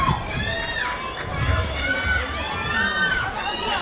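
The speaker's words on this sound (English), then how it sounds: "You can hear the scream from the fans supporting them from a distance as they go for the final lap." Fans scream and cheer from a distance during the final lap of an athletics race at the 2025 CAA championships, a steady, dense crowd roar with high shrieking voices rising and falling throughout.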